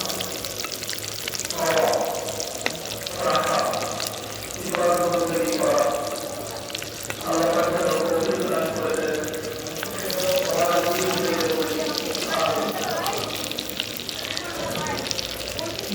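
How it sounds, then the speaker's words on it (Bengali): Eggs fry in a pan with a continuous soft sizzle underneath, while a person talks in bursts over it. "ডিমগুলো প্রায় ভাজা শেষ পর্যায়ে।"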